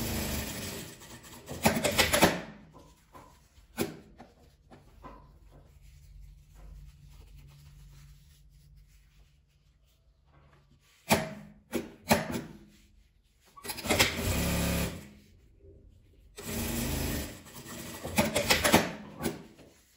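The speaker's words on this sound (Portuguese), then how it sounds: "Aí você posiciona bem e costura, também com a distância de um pezinho de máquina." A sewing machine stitches patchwork strips of denim and fabric scraps for a pouch, running in several loud, close bursts of rapid whirring separated by quieter pauses.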